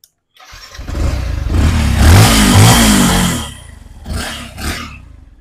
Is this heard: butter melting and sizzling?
no